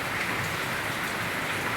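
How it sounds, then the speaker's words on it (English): Steady rain pours down outdoors while someone bathes in it, a dense, even hiss of drops hitting surfaces that fills the whole moment with no pauses or talk. "make this rain, I beg, may never stop now"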